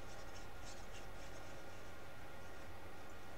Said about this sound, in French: je viens mettre de la colle sur cette partie-là